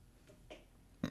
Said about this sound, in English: A sniff and a burp.